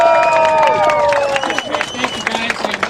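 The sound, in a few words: audience applause for a speaker at a rally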